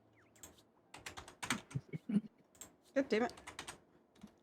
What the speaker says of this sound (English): Let me type, keyboard.